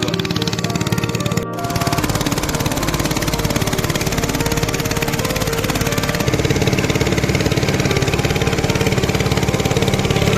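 A machine pumps water out, its motor running in a steady droning chug heard close and loud with a brief break near the start, and no voices.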